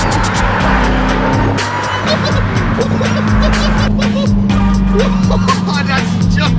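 A 2020 Dodge Hellcat Redeye's supercharged engine roars under hard acceleration, close and loud, with a sustained rising drone and tire noise running the whole way through.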